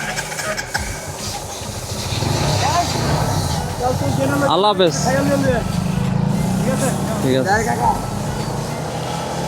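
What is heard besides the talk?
motorcycle engine starting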